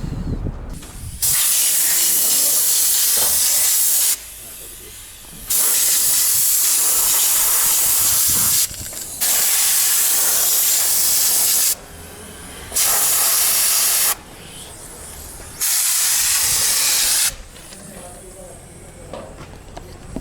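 Several loud bursts of high-pressure oil spray hiss on and off over a motorbike in a repeating pattern, separated by short pauses with quieter background noise, on a salt flat in Bolivia.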